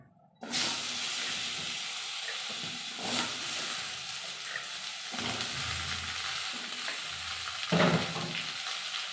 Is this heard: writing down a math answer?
no